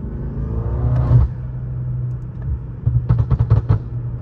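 The V8 of a BMW M5 F10, heard from inside with the windows closed, gives a deep, muffled rumble with a few short rev blips near the end.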